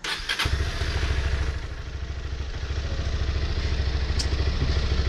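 A new fuel-injected motorcycle in neutral fires up after a short starter whirr, then settles into a steady, close, throbbing idle that carries on alone to the end.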